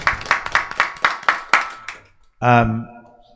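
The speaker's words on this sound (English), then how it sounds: "Just give Pandit a round of applause." A small group claps for a Pandit at a night of Devi Bhagwat religious discourse, sharp uneven claps fading over about two seconds before a voice speaks alone.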